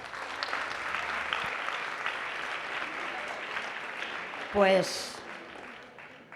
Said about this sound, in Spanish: esos aplausos, yo me sumo a ellos